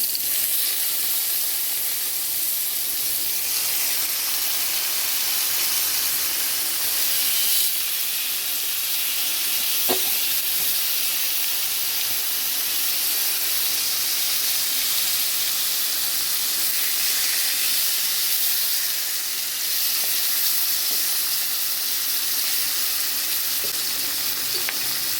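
Pieces of hilsa fish sizzle in hot oil in a steady, close hiss that holds evenly for the whole stretch, with only a few faint clinks and no speech.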